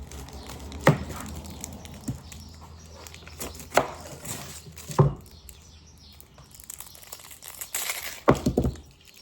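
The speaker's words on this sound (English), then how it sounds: "So you have to cut your onion up and put that to the side" An onion being chopped on a board, several irregular sharp knife knocks close by with rustling and crinkling of onion skin between them.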